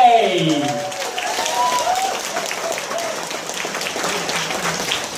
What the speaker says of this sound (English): big round of applause to congratulate the bride and groom and the families